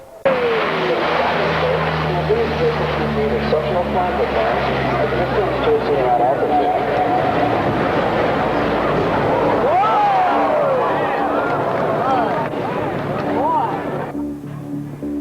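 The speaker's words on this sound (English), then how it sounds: "you are privileged to witness today's P-3 flight demonstration, the first of its kind since 1974" A P-3 patrol aircraft roars through a low-altitude flight demonstration at the 1986 NAS Moffett air show. The steady, loud propeller-engine drone pitches up and down as it passes, while an announcer talks over it.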